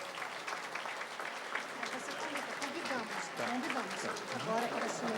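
Applause fills the chamber of the Paraná State Legislative Assembly during a session to elect its governing board, a steady, dense clatter of many hands with voices calling out underneath throughout.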